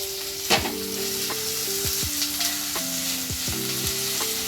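Chopped shallots, green chillies and curry leaves sizzle steadily in a hot pan for a Kozhikode-style drumstick and prawn curry, with repeated scraping strokes of a spoon stirring through them, close and continuous, no voices.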